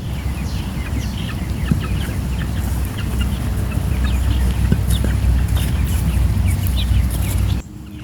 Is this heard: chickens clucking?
yes